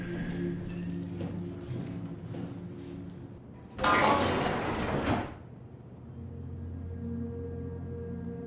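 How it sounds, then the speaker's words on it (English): An elevator door in the sci-fi horror game SOMA slides with a loud grinding rush lasting about a second and a half, set against a low droning ambient hum and faint mechanical ticks. "What happened to the elevator door"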